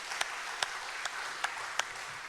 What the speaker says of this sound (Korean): 우리 한번 감사 박수로 성령님께 영광 올려드리겠습니다.